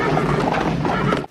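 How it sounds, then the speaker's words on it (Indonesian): A horse pulling an arriving horse-drawn carriage in a 1994 film scene, heard as a dense, loud stretch of snorting and whinnying with hoof noise under a thick wash of background sound, cutting off abruptly at the end. "Datanglah kereta kuda yang ternyata adalah Armand."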